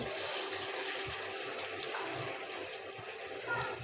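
Ash gourd leaves frying in hot oil over high heat, a steady, dense, close sizzle with a rushing, water-like hiss that holds evenly for the whole stretch, with no talking.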